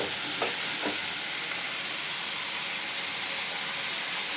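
Mushrooms with salt, cooked for a pepper fry, get stirred in a hot pan: a dense, constant sizzle and hiss fills the clip, with a couple of soft utensil scrapes near the start and no talking.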